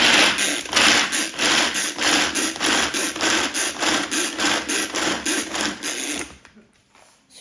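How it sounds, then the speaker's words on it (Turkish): Hazelnuts are ground in a kitchen grinder, a loud pulsing mechanical whir with rapid rhythmic beats that runs for about six seconds, then cuts off abruptly. "Atlanırken hemen fındığımı da çekiyorum."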